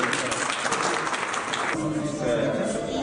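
An audience claps at a ceremony marking hadith calligraphy works, a soft, distant patter of applause that thins out partway through while a voice carries on faintly beneath.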